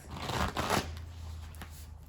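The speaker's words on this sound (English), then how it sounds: "So let's pull you some self-care cards." Self-care oracle cards being shuffled by hand, a close, steady riffling and slapping of card stock that swells mid-clip and then eases off, with no one talking.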